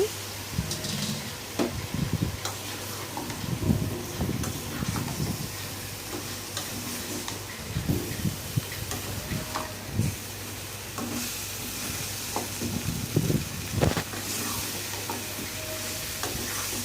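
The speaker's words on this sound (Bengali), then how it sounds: "আমি এখন কচুর গাঠিটা দিয়ে দিচ্ছি" Taro stems sizzling and frying in a pan for a shrimp dish, with a steady hiss broken by repeated scraping stirs and clinks of a utensil, close up and with no talk.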